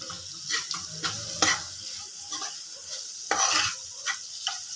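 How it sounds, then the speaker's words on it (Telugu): Raw curry leaves are tossed into a pan of spicy mutton fry without extra oil and stirred, giving soft scraping stirs and a light sizzle that rise and fall in short strokes, close by, with no talking. "కొంచెం కరివేపాకు వేస్తున్నా, పచ్చిదే, ఆయిల్ వేయట్లేదు నేను, ఇలానే వేస్తున్నా"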